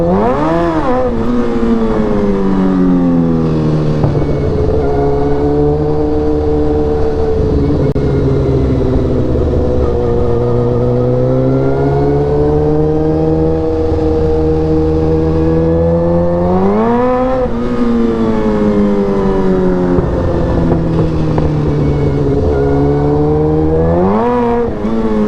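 Motorcycle engine droning steadily while riding, rising and falling in pitch through several gear changes and throttle swells, loud and close with constant wind rush, no talking.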